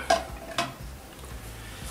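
Two sharp metallic clanks of a saucepan being set down and moved, followed by a quiet low rumble with faint scraping.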